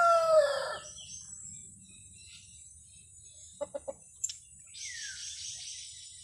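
Backyard chickens give a crow at the start, then a few scattered clucks and short calls, fairly quiet over faint background noise, with no talk.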